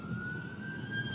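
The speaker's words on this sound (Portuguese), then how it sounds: "Mostra pra ambulância, ambulância." An ambulance siren wails with a steady sustained tone that slowly rises in pitch, moderately loud and clear over low rumbling traffic and wind noise in the background.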